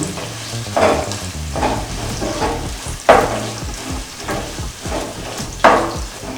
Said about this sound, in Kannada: ಈರುಳ್ಳಿ ಹಾಕಿದ ಮೇಲೆ ಒಂದ್ಸರ್ತಿ ಚೆನ್ನಾಗಿ ಮಿಕ್ಸ್ ಮಾಡ್ಕೊಳ್ಳಿ